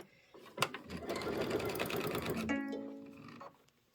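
A sewing machine stitches quilt pieces for a table topper, running in a steady close whir for about three seconds with a brief knock at the start, then slowing to a stop.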